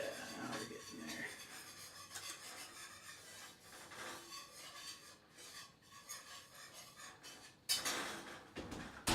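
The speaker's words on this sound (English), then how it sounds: "one more little whisk" Whisking in a bowl, quiet continuous scraping and tapping strokes against the sides, uneven in pace and fairly faint, ending in a couple of sharper knocks.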